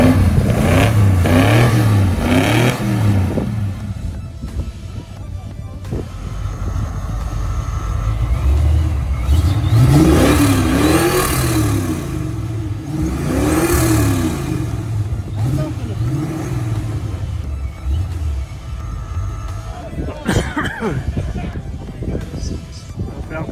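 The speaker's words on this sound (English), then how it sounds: "Gonna rev her up." Car engine revving at a motor show, with Ford Falcon GTs nearby: a loud, close, rumbling engine rising and falling through repeated revs, with people talking over it.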